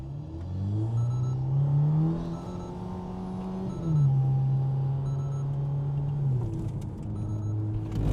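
A car on a road test drives through a turn, its engine droning and rising in pitch, dipping briefly between gears, then holding a steady hum with tyre and road noise close by.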